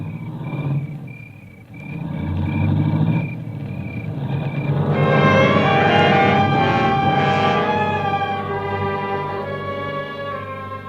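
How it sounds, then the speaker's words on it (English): A car engine rumbles and pulls away in a classic radio drama scene, a low motor drone fading under a swelling orchestral music cue that takes over halfway through. "I heard the car leave"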